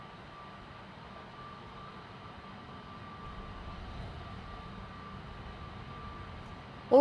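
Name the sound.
airliner taking off at Amsterdam Schiphol Airport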